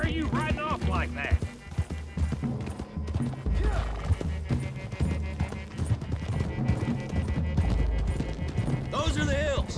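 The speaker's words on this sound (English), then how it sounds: "Save your horses." Horses gallop across open hills in the Red Dead Redemption 2 video game, their steady rhythmic hoofbeats drumming under music and spoken voices for the whole stretch.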